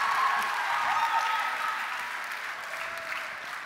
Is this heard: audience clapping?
yes